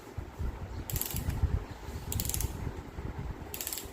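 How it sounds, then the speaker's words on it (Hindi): A mechanical 16 mm film camera is wound by hand, its key giving dense ratcheting clicks in three bursts with brief metallic whirs between, close and clear with no talk. "मैं चाबी भर रहा हूँ हाथ से। ये मैकेनिकल 16 mm का कैमरा है।"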